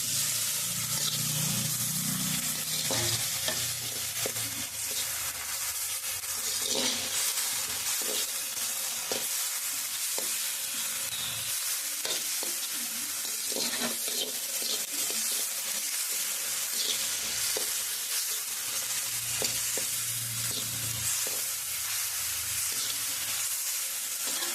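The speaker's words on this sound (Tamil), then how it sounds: "எல்லாம் போட்டு வதக்கு." Tomatoes, onions, large onions and curry leaves sauté in a pan for a village-style country chicken and fish fry feast, giving a steady close sizzle with occasional stirring clicks and scrapes throughout, no talking.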